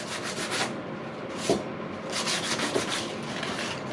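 A sheet of 240-grit sandpaper scrubs painted car body panels on a G35, making a dense, close rasping rub in uneven back-and-forth strokes with no talk.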